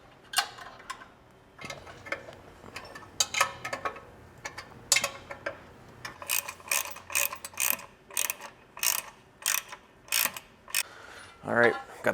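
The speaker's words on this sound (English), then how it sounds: "We'll just go ahead and tighten these down. These are 14 millimeter." Ratchet clicking in repeated bursts while 14 mm nuts on an aftermarket full skid plate are tightened under a Toyota 4Runner, the rapid pawl ticks coming close and fairly loud, separated by brief pauses.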